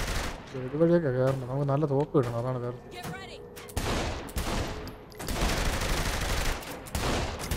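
Bursts of gunfire from Saints Row The Third Remastered crackle in rapid volleys, loud and dense in the second half after a stretch of talk and a short shout at the start.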